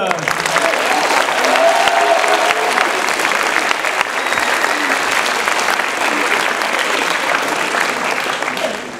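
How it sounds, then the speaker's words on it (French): A student music concert audience in a hall applauds steadily for several seconds, a thick, even wash of clapping from many people, with faint voices mixed in. "Donc je vous demande d'applaudir"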